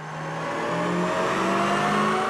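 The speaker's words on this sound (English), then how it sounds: "First though, the usual baseline run on this Mustang." A Ford Mustang with a 5.4 liter engine making a baseline dyno run, its engine pulling hard in one loud, steady rise of revs with a climbing tone throughout.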